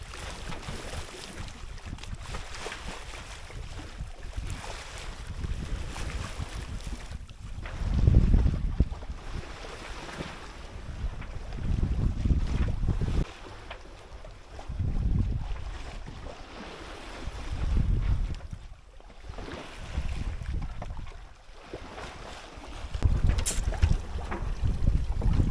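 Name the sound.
wind at sea on a sailboat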